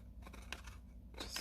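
Scissors snipping paper while making a handmade card, a few quiet close cuts spaced across a short, faint stretch.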